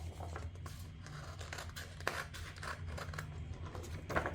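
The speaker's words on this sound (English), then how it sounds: "it's also an option to cut with scissors if you don't own a cutting machine" Scissors snipping through inkjet transfer paper, a steady run of close, soft crisp cuts and paper rustles repeating through the clip, with one sharper snip standing out midway and no talking.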